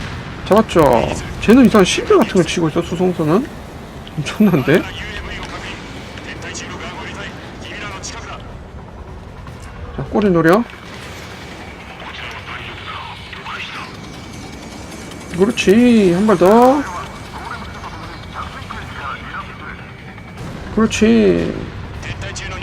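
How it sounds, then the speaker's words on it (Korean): Missiles launch during an aerial dogfight mission in the Ace Combat 7 flight combat video game. Several loud, roaring whooshes and blasts come in separate bursts, with someone talking excitedly between and over them. "그렇지 미사일 쏘고"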